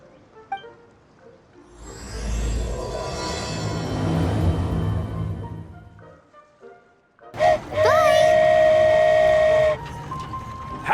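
In the video game Genshin Impact, a train departs with a rumbling, swelling roar of motion, then a loud sustained whistle or horn blast, all fairly close.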